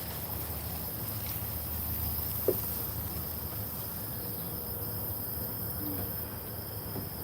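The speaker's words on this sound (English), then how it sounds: "Crickets." Crickets chirp in a weedy garden beside a compost pile, a faint continuous high trill that hangs steadily over low outdoor background noise, with no voices.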